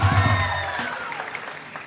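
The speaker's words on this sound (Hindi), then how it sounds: "तालियां पाकिस्तान की बॉलिंग के लिए।" Applause from a cricket crowd at an India vs Pakistan Asia Cup final after a wicket falls to Pakistan's bowling, a dense clapping burst that is loudest at the start and then thins out, with faint voices underneath.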